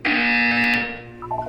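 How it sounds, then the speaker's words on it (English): A harsh, loud buzzer from the Portal 2 video game blares for about a second, then tails off into a short electronic chime. "You will hear a buzzer."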